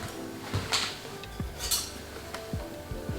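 A spoon clinks and scrapes against a bowl while Greek yogurt is mixed, a few close metallic taps and knocks at irregular intervals with no talking.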